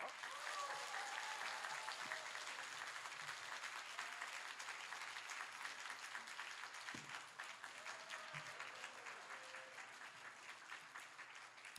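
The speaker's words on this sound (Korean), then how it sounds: "여러분 큰 박수로 맞아주세요" Sustained audience applause fills a church hall as a guest is welcomed, dense steady clapping for about twelve seconds with a voice speaking briefly beneath it.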